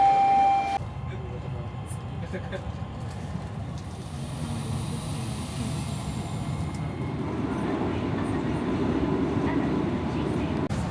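A Japanese subway train runs with a steady low rumble and rolling rail noise that swells slightly toward the end, with people talking over it.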